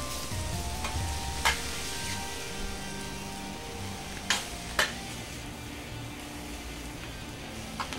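Cheesesteak meat and melted cheese sizzle on a hot griddle as a spatula scrapes and scoops, steady frying under a few sharp metal clacks.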